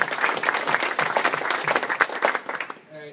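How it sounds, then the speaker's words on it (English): An audience at a sports and tech meetup applauds the panel, dense clapping for about two and a half seconds that quickly tapers off while a voice begins speaking at the end. "every big round of applause for the panel"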